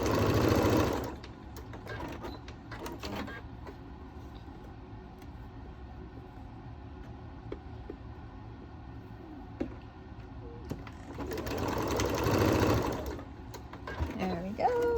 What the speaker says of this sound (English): you're going to sew directly on those lines